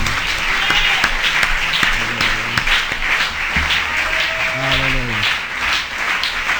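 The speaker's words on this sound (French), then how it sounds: "On nous applaudit Seigneur." Applause from a church congregation, sustained clapping with voices and cheering mixed in and brief sung or shouted tones rising over the crowd throughout.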